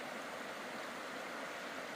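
Naneum Creek in Naneum Ridge State Forest, Eastern Washington, rushes past a campsite in a steady, dense broadband wash of flowing water, close and constant with no voices.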